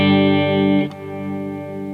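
A delay pedal on its analog setting shapes an electric guitar swell. A sustained chord fades, then a new note enters and rings out warm and slightly darker, with no voices.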